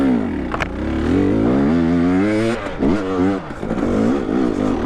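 Yamaha YZ250X two-stroke dirt bike revving hard on a steep climb, a loud rising and falling engine wail with repeated throttle blips and a short stall-like dip near the end.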